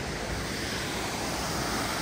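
Waterfall splashing beside a theme park eating area, a steady broadband rush of falling water heard close and alone, with no talk over it.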